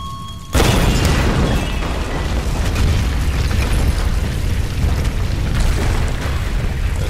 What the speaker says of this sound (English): Don't you look at the explosion